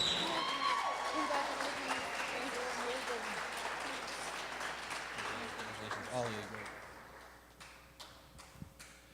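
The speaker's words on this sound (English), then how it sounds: "Round of applause for Arlene and all three of our finalists" An audience at a live singing contest applauds the winner and finalists, the clapping strongest at the start and fading gradually, with voices speaking and a few scattered claps at the end.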